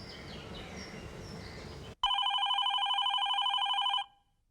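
A telephone rings loudly and steadily for about two seconds in a repeating electronic trill, starting abruptly right after indistinct background talk ends, then stopping.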